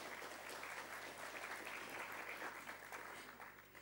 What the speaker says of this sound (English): Yes, please give him a warm round of applause.